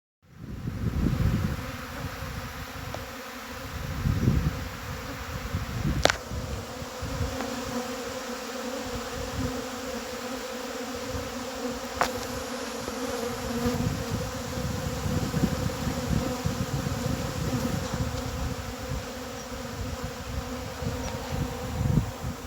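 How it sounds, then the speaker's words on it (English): A dense swarm of bees drones steadily around working beehives outdoors, a loud continuous buzz up close with louder surges as individual bees pass the microphone, plus occasional faint wind rumble. "It's just a big bee fight."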